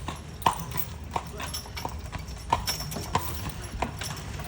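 Horse hooves clip-clop steadily on a city street as a horse pulls a buggy on a New Orleans carriage tour, a rhythmic series of sharp hoofbeats up close with soft background noise and no talking.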